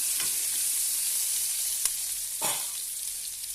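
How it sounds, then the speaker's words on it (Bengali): Potatoes and chillies fry in oil with a constant close sizzle, broken by a few sharp scraping strokes as they are stirred around the pan. "আলুটা দিয়ে ভালো করে নাড়াচাড়া করে একটু ভালো ভাজা করে নেব।"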